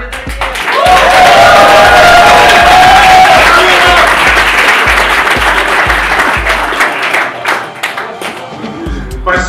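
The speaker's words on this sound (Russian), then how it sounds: "Давайте больше аплодисменты." Audience at a film premiere in a lounge venue claps and cheers loudly and continuously for several seconds, a dense close roar of hands with whistles and shouts, gradually thinning toward the end.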